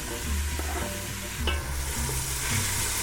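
Onion and shallots sauté in hot peanut or grapeseed oil in a stock pot, with a steady close sizzle and a few soft stirring scrapes throughout.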